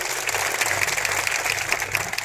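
Crowd clapping at an outdoor political rally addressed by India's defence minister, a short, loud burst of dense, crackling claps from many people close by.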